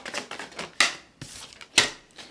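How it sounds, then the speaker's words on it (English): Tarot cards being shuffled by hand, close and crisp, with bursts of riffling and sharp slaps repeating in an uneven rhythm, no talking. "I really should not be shuffling and talking at the same time"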